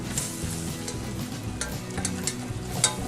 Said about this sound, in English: I'm going to add to that 2 tablespoons of flour. Stir that together right away.